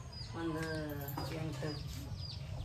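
Village chickens clucking in short, repeated bursts at close range over a steady low background rumble, with some nearby voice-like sounds mixed in.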